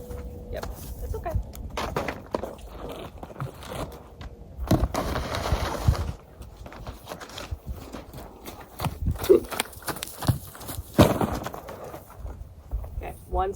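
A paint horse being worked toward endurance riding walks with irregular hoof clops on the ground, mixed with scuffs and brief knocks. People talk throughout, and the hoofbeats sit partly beneath the voices.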